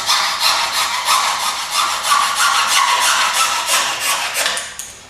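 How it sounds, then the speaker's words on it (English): A hacksaw cuts a slot off a tab on a lightweight radiator with steady, rapid back-and-forth rasping strokes. The sawing is loud and close and runs continuously without any speech. "So without cutting into the body of the radiator, with a hacksaw, we cut that off."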